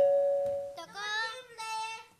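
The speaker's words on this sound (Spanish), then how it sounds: "Sí, chicos, está sonando el timbre." A two-tone doorbell chimes in an indoor studio setting, a clear ding followed by a longer ringing dong tone, fairly loud and alone with no talk over it.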